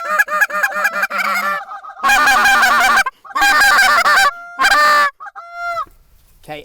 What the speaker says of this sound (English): There's another flock coming from the left.